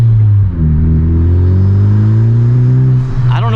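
A 2021 Honda Civic Type R under hard acceleration, its engine drone loud and steady with a rising pitch through the gear, the tires losing traction, a brief dip near the start and a shift-like break toward the end.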